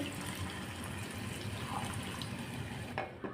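Water pours steadily into a pan of pepper chicken in one continuous, close splash, cutting off just before the end.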